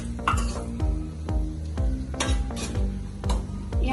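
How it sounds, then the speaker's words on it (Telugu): Onions and red, yellow and green capsicum fry in a pan for white sauce pasta, a soft sizzle broken by repeated scraping stirs of a utensil against the pan, about two strokes per second, close and clear. "ఒక బ్రౌన్ కలర్ వచ్చేంత వరకు వేయిస్తున్నాను నేను ఇందులో"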